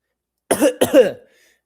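Two quick, sharp coughs in close succession, close and fairly loud, followed by silence.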